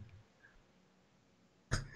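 A single short, sharp cough bursts out near the end after a stretch of near silence, muffled and close.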